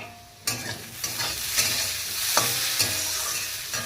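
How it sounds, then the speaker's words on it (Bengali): Potatoes sizzle steadily in a frying pan, a loud, close, continuous crackle broken by sharp scraping knocks as they are stirred. "এই যে ভাজতেছি এখানে আলু"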